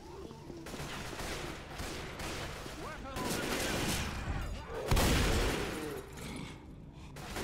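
Gunfire in the Left 4 Dead 2 video game during a tank fight, dense continuous shooting with a heavy burst near the end, playing under players' voices talking throughout.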